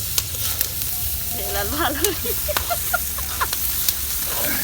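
Onions and spices fry in oil in a pot over a brick stove at a rooftop picnic. The steady, loud, close sizzle carries on throughout, with occasional soft stirring clinks.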